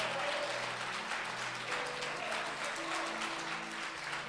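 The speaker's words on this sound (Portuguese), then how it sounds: "Irmãos, aplauda o Senhor bem forte." A church congregation applauds steadily throughout, dense clapping from many hands with faint sustained tones beneath.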